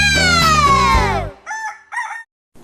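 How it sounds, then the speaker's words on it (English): A loud, close rooster crows one long cock-a-doodle-doo, then gives two shorter clucking calls before falling quiet. "The rooster goes cock-a-doodle-doo."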